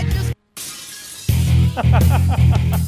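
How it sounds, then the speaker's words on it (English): A shot glass is dropped and shatters: a short cut to silence, then a loud crash followed by a few sharp tinkling fragments. "Someone dropped a shot glass."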